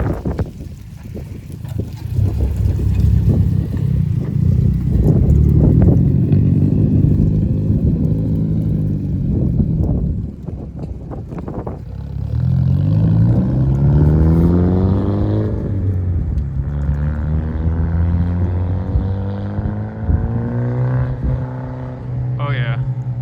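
A Hyundai Genesis Coupe running with a freshly swapped engine and no hood pulls away on a snowy Pennsylvania road, its engine droning loud and steady with rising and falling revs, while people talk over it.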